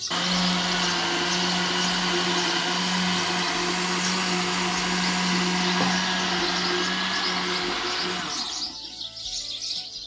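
Electric blender whirring steadily as it purées dates with a bottle of sour milk drink, sugar and seasoning, a loud continuous motor drone with a steady hum, which winds down near the end.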